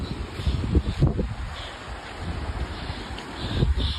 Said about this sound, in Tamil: காற்று அடிக்குதா, குளிர்ந்த காற்று பாருங்க